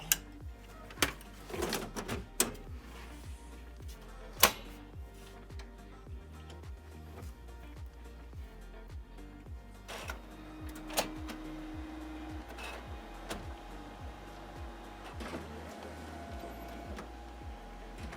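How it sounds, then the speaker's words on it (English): An OKI laser printer powers up after its fuser unit is put back in, with clicks and clunks, motor whirs and short mechanical hums rising and settling, fairly quiet and close, with no talk. "Put the fuser unit back into the printer, and turn the printer on."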